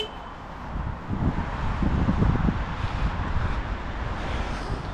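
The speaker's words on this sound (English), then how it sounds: "it's very windy and I didn't bring the windshield" Strong outdoor wind buffets an unshielded microphone in a motorhome show car park, a continuous low rumbling roar that swells and eases without pause, with no talking.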